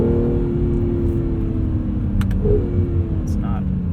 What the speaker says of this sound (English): The sound coming from this engine really does make it feel special.